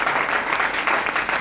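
A dense, steady wash of audience applause fills the whole stretch at a closing event in Katni, Madhya Pradesh, loud and continuous with no pauses.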